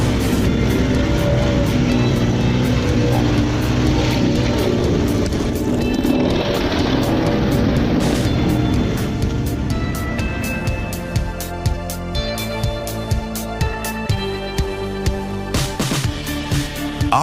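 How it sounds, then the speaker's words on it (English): A Bandit 3500 stump grinder runs hard against a stump. Its engine roars loudly and steadily, and rhythmic chopping pulses from the cutter wheel come through more clearly toward the end. No voices are heard. "proving the powerful cutting and grinding capabilities of the Bandit 3500"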